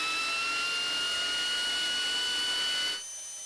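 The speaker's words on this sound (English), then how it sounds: "So we're going to use the belt sander." A belt sander running steadily on a car body panel while sanding filler over a dent, a loud continuous whirring grind with high tonal whine that cuts off near the end.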